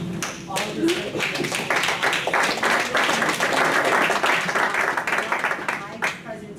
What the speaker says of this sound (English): just give him a round of applause because Mike is in it